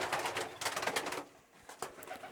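Racing pigeons in a young bird loft coo and flutter nearby, a busy cluster of soft throaty calls that dips briefly before picking up again.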